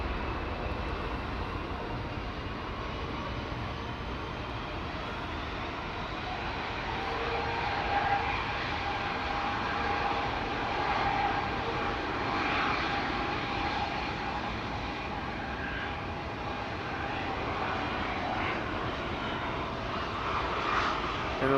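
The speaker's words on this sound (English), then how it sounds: "United 767 in the background. Ready to line up on runway 24." A United Boeing 767 jet on runway 24 at Amsterdam Schiphol Airport, its engines producing a broad, steady roar that swells slightly as it heads off, heard at a distance with no voices.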